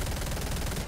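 Rapid automatic gunfire from a Fortnite match, a dense continuous burst of shots filling the whole moment at steady loudness.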